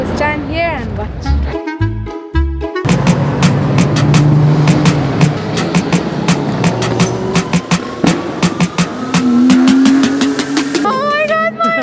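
Loud, extremely modified BMW M cars roar past on a track and rev hard, engines whining up and down continuously, with a brief burst of talk near the start.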